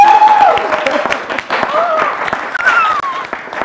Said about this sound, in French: J'aimerais qu'on applaudisse encore une fois